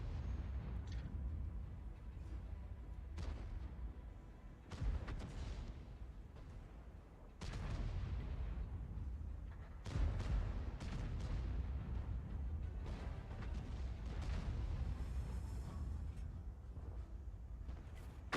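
SPG self-propelled artillery in World of Tanks, several heavy booms and rumbling blasts spaced a few seconds apart over a low continuous battlefield rumble, fairly quiet overall.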